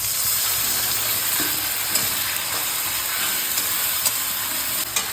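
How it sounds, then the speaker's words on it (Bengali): Turmeric, cumin, coriander and Kashmiri chilli powders fry with a splash of water in a pan for a fish curry, producing a loud, dense continuous hiss and sizzle with occasional light stirring clicks. "1 চামচ হলুদ, 1 চামচ জিরে, 1 চামচ ধনে গুঁড়ো, 1 চামচ কাশ্মীরি লঙ্কার গুঁড়ো, সব একসঙ্গে জল দিয়ে কষিয়ে নেব"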